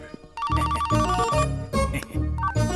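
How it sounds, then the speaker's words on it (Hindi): A phone ringtone rings in a Hindi-dubbed romantic comedy film, playing a loud tonal melody with background score for nearly three seconds, with no speech over it. "रिंगटोन भी मुझे उसकी टोन में सुनाई दे रहा है"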